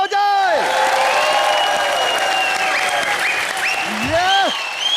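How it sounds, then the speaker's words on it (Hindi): Studio audience on a comedy TV show applauding for the celebrity guests, loud sustained clapping with cheers and whoops, while a host's voice and music play over it. "superstar Sunil sir, Raveena ma'am और सुखविंदर जी के लिए जोरदार तालियां हो जाए"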